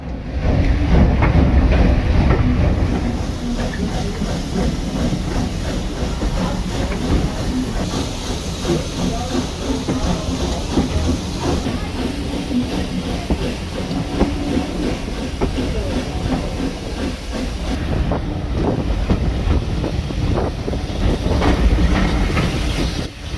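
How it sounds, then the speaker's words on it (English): A loud, steady rumble of a steam locomotive pulling a full train, exhaust beating with rhythmic chuffing and hissing steam over rattling wheels on the rails, continuous throughout. "the engine exhaust starts to beat loud and steady as the full weight of the train comes"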